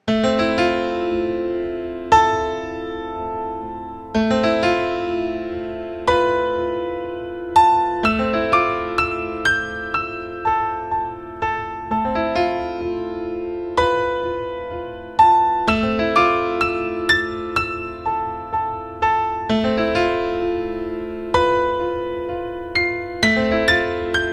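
The X-Files TV theme: a slow, haunting melody of sustained notes over a low wash, each phrase starting with a soft struck attack, played alone with no voices.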